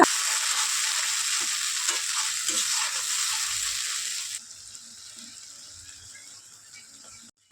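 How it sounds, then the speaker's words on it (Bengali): Spices with cumin fry in hot oil in a wok, a bright crackling sizzle that runs strong at first and then settles to a quieter hiss, with no voices. "খুব ভালোভাবে মশলাটাকে কষিয়ে নিতে হবে"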